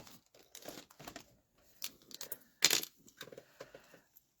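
A clear acetate sheet is trimmed while making a card, giving short crinkly snips and plastic rustles in scattered bursts, close and quiet, with no talk.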